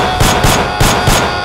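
Gunfire in a staged action sequence: loud, close bursts of rapid shots repeating in a quick, even rhythm, with no talking over them.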